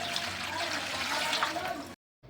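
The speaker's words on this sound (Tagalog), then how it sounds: "Naglagay na nga ako dito ng 7 cups ng tubig." Water pours into a cooking pot for a Filipino sapin-sapin or maja blanca batter, a steady splashing gush that cuts off abruptly, then resumes briefly after a short silence.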